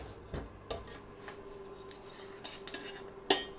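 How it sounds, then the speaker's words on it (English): A spoon clinks and scrapes against a plate while mash is spooned around it, with a few sharp metallic taps, one louder near the end, over quiet kitchen background. "and just spoon it around your mash"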